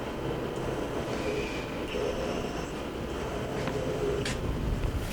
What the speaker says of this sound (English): Jogging. X. Ball screws and motors sound quiet.